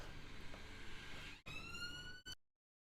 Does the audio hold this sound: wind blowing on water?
no